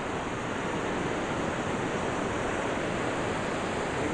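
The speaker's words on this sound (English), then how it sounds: "Here we see the falls again. You can see the colossal speed of the water is going at." Huka Falls waterfall roaring with a colossal volume of fast fresh water, a loud, steady, broadband rush that never lets up.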